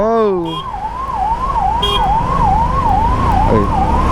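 An ambulance siren wails close by in road traffic, heard from a bike taxi, loud and rising and falling in a steady cycle, with a brief voice at the start and traffic rumbling underneath.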